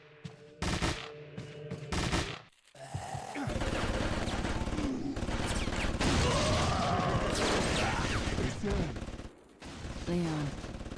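Rapid bursts of video game gunfire crackle loudly in dense volleys, broken by short pauses and mixed with game sound effects, while a voice speaks over parts of the action.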